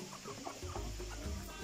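Roosters in a backyard flock cluck in a few short, close calls over steady low background noise.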